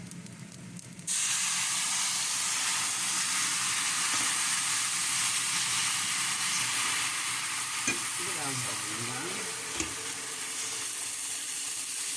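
Steady loud sizzling and hissing from a hot pan after bone broth is poured in at the start, with a few faint clinks of utensils toward the end.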